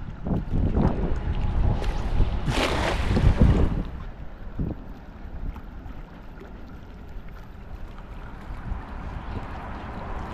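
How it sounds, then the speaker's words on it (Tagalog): Wind gusting at a seaside fishing spot, heavy rumbling buffets against the microphone for the first few seconds, then easing into a steadier, softer blowing with faint water in the background. "medyo mahangin po mga kabayan"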